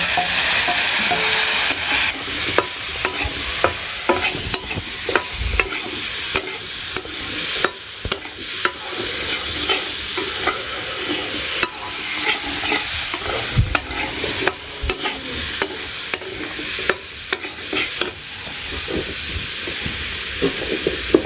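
Eggplant and radish seasoned with salt, coriander, turmeric and chili powder sizzle steadily in a wok, with frequent scraping stirs and clatter over a continuous frying hiss; no talking.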